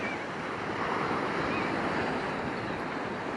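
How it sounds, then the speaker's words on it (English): Ocean waves break over small coastal cliffs and bluffs, a steady, dense wash of surf with some wind on the microphone and no speech. "just seeing the waves break over those is pretty neat"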